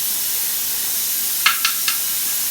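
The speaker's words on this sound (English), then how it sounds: "As you can hear, we definitely got some steam going." A pressure canner, heated while canning smoked ham, gives off a steady hiss of steam, broken by three quick, sharper puffs of venting close together.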